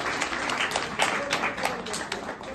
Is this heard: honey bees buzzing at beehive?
no